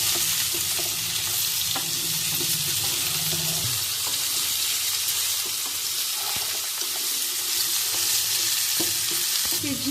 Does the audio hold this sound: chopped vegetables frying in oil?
yes